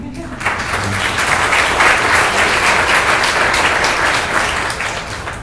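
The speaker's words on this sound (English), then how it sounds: "I don't usually get very many applause, so thank you." A school gathering claps for the high school principal at a back-to-school reception, loud, sustained applause that rises quickly, holds dense and even for about five seconds, then tapers.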